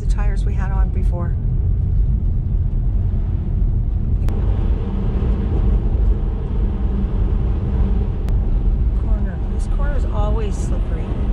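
Car on snow tires driving through snowy ruts, giving a loud, steady low rumble of tire and road noise throughout, with people talking inside the car over it.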